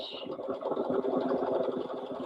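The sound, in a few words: sewing machine stitching a bear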